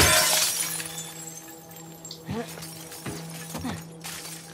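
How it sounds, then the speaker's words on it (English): Window glass shatters loudly in The Last of Us Part II as a weapon smashes through a pane, followed by a few smaller tinkling fragments falling, with background game ambience. "I wondered if smashing windows actually damaged your weapon"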